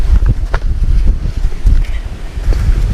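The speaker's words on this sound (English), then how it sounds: "As long as this wind is blowing like this" Strong wind blows across an open gravel pit where people camp and fish for carp. It buffets the microphone with loud, gusty low rumbles and rustling for the whole stretch.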